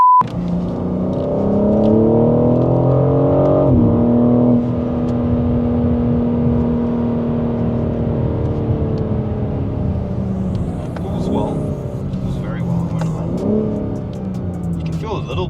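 A BMW G82 M4 Competition accelerates hard, its engine rising in pitch through a long pull with a shift midway, loud and close from inside the cabin, followed by quieter revving as voices talk over it.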